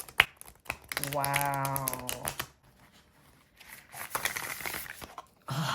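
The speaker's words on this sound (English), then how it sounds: "I'm not great at shuffling a full-size deck" Full-size tarot cards riffle and snap in quick crackling bursts close by, with a brief spoken exclamation over the shuffling.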